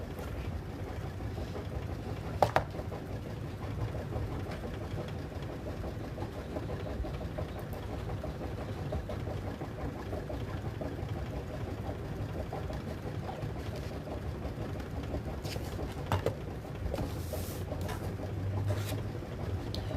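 A Brother Luminaire embroidery sewing machine stitches with a couching attachment, giving a steady low mechanical hum with a faint rhythmic pulse throughout, plus a few sharp clicks and taps.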